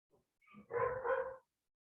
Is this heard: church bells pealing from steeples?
no